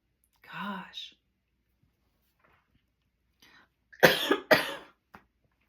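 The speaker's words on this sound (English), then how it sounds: "I've not ever coughed after that" A short voiced sound, then after a pause two loud, harsh coughs close up, followed by quiet breathing.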